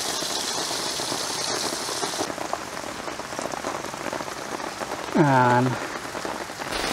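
Heavy rain drums steadily on a surface at an overnight campsite, a dense unbroken patter throughout, with a brief tonal creak or squeal rising near the end.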